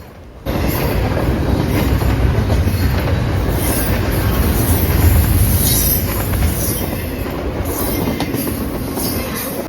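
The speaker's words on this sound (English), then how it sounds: "Very lucky to see a BNSF Z train, especially the first train of the day." A heavy BNSF Z freight train rumbles past nearby, steady and loud, with rolling wheel noise and faint high squeals over the continuous roar.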